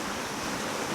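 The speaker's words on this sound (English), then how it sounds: "you watch closely how the water eddies crash against the column" River water swirling in eddies and crashing against the concrete pier columns under a bridge, a dense continuous rushing wash, close and fairly soft.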